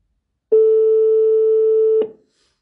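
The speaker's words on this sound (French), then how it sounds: "Je vais rappeler cette personne-là qui m'a appelé." Single long telephone ringing tone heard while calling back a missed-call number: one steady, clear electronic beep lasting about a second and a half, close and alone against silence.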